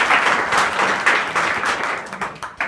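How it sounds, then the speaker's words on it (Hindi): Students at a junior high school in Azamgarh applaud together, a dense burst of clapping that runs steadily through and thins into a few scattered claps at the end. "ताली बजाओ इन दोनों के लिए।"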